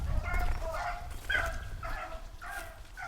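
Beagles baying on a rabbit hunt outdoors in Michigan, a pack of hounds giving repeated yelping cries at a moderate distance, rising and falling in bursts.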